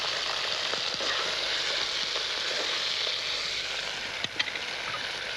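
Pork and onions sizzle steadily in a pan, a dense continuous frying hiss with occasional small pops and scrapes, close and fairly loud throughout.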